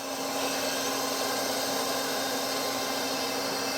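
A Citizen K16EVIIP CNC Swiss lathe, new in 2016, runs its live tooling with a steady high whine and a constant tonal hum, loud and even throughout with no voices.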